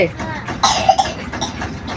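Child coughing indoors at home, a few short rough coughs spaced over a couple of seconds against quiet background talk.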